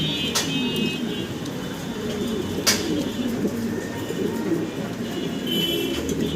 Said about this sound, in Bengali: বিশাল সাইজের কবুতরটা, খুব অ্যাক্টিভ, মানে খুব ছোটাছুটি করতেছে